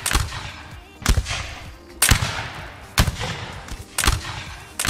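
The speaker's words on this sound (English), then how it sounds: "We're doing a ripple fire, guys." Musket volleys ripple out in Mount and Blade Warband Napoleonic Wars, a line of soldiers firing in sequence: five loud, sharp cracking bursts about a second apart, each trailing into scattered echoing pops.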